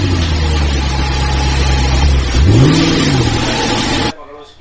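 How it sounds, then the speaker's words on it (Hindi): A battery-operated Mercedes ride-on toy car for kids starts up with a loud, steady electric motor whir, a rising and falling sweep in the middle, then cuts off abruptly near the end. "ये गाड़ी स्टार्ट हो चुकी है आपकी"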